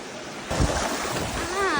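Water rushes steadily down the Mirchaiya waterfall in Jharkhand, a broad continuous roar mixed with wind buffeting the microphone, swelling louder partway through, with a voice briefly audible near the end.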